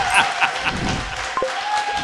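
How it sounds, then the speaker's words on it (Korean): Scattered applause from a studio audience on a Korean political talk show, a few distinct claps and a short burst mixed with room noise and a faint voice, brief and moderately loud. "박수 한번 부탁드립니다."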